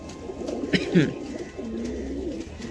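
Royal Kalshira pigeons coo in a loft with soft, low repeated coos and a few brief flutters. The birds sound close, and faint background noise runs throughout.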